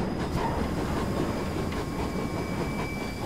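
A steam train in the Train Simulator game rolls past on the rails with a steady, fairly loud rumble and faint clatter from the wheels, with no talking.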